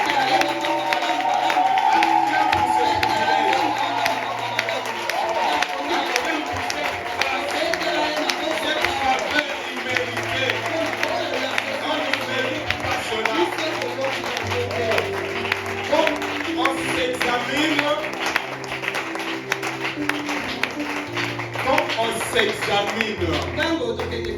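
A church congregation applauds and cheers at a French-language service, a steady wash of clapping and crowd noise running the whole time, with music and voices mixed in.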